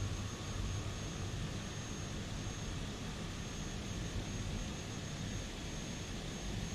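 In Microsoft Flight Simulator 2020, an airplane engine drones steadily at Polson Airport, Montana before taxiing, a constant broadband roar with no breaks or talk.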